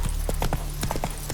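Hooves clip-clop at a brisk, even trot in The Witcher 3, each strike close and distinct over a low steady game background hum.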